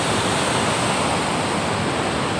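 Fast-flowing river water at Chuka Beach, a dense, continuous rushing roar that stays loud and steady throughout with no voices.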